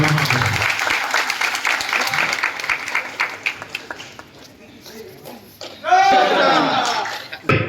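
A crowd applauds at a drama award ceremony, loud dense clapping at first, then an announcer's voice comes in over a quieter stretch before a further burst of cheering and clapping.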